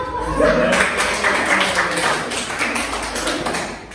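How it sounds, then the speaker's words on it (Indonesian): A group of schoolchildren claps their hands in a classroom, a steady patter of many close claps running for several seconds with voices mixed in. "oke, tepuk tangan dong"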